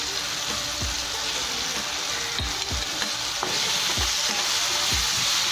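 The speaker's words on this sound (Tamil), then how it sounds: "இது லைட்டாக இப்படி கொஞ்சம் கலந்து விட்டுக்கலாம் எல்லாத்துலேயும்." Coriander, turmeric and chili powders are stirred through hot oil in a pan, with a continuous bright sizzle and regular scraping strokes of a spoon roughly every half second; no talking.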